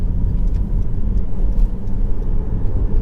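Honda CR-V 2.2 i-DTEC diesel pulling away, a steady low engine drone with road rumble that holds evenly and fairly loud for a few seconds, with no talk over it.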